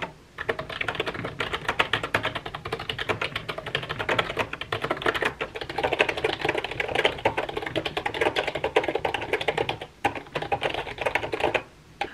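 Steady, rapid typing on a computer keyboard during a writing session, dense clattering keystrokes running continuously at close range with only brief pauses, no voices.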